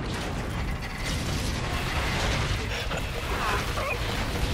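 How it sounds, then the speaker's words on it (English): A heavy door mechanism in the Call of Duty: Infinite Warfare video game grinds and creaks open, with ratcheting gear clatter running steadily and loudly throughout against a dense background rumble. "Let's get this door open, Reyes."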